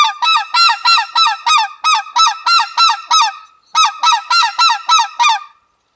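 An imitation of white-fronted goose calls as a rapid practice drill: two quick runs of sharp, evenly spaced honks, about a dozen and then six, loud and close with a brief pause between them.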